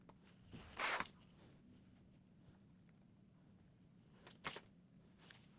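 A zipper is positioned and handled while sewing a mermaid-style dress with vertical panel seams, giving two short, soft rustling scrapes about three seconds apart over a quiet room background.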